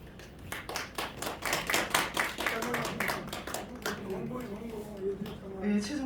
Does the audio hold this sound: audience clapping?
yes